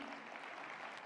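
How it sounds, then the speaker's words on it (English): A brief, faint burst of audience applause for honorary fellows at an awards ceremony, a dense patter of clapping heard from a distance. "if we could have one last round of applause for all of our honorary fellows"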